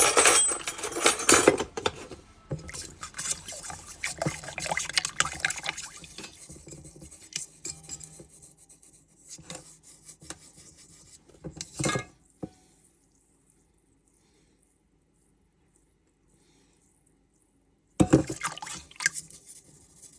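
Sugar being stirred into liquid in a bowl for homemade pizza dough, busy clinking and scraping of a utensil with watery swishes, close and fairly loud, then a long quiet gap before a final burst of clatter.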